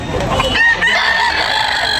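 Chickens cluck amid a noisy, dense chicken market background, with a brief rooster crow cutting through partway.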